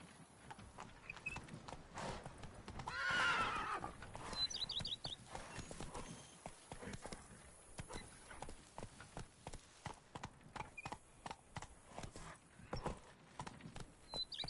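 Roach the horse in The Witcher 3 video game: steady clip-clop of hooves runs throughout at a moderate pace, with a brief whinny early on and faint ambient sound behind.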